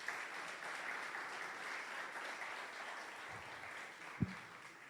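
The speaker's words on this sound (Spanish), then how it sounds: "¿Cuánto le damos un aplauso a Él?" Applause from a church congregation during a Spanish-language service honoring Jesus, a steady, faint wash of clapping that continues throughout with a couple of sharper knocks near the end.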